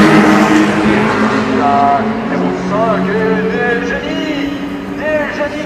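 Race cars at the 2016 24 Hours of Le Mans, including Audi and Toyota prototypes, roar past and rise and fall in pitch, loud and continuous, with a commentator talking over the engines.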